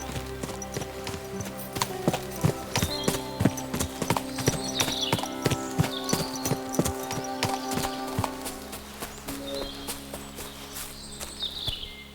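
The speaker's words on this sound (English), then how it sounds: "A horse? What's it doing here in the woods?" Horse hooves clip-clop steadily on a woodland trail in the medieval game Kingdom Come: Deliverance 2, close and clear, with a musical score playing underneath and faint birdlike chirps.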